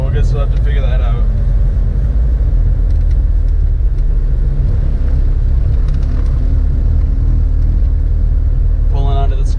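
A big-turbo VW Jetta rolls slowly onto a scale, a loud, steady low engine rumble heard from inside the car, with voices talking briefly at the start and end.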